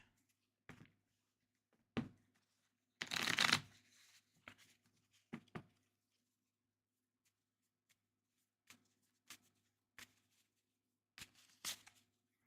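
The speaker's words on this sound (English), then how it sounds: "I better shuffle up all these fast action cards here" A deck of fast action cards for a tabletop basketball game is shuffled by hand in a quiet room, a loud riffle burst followed by scattered soft taps and slaps of cards.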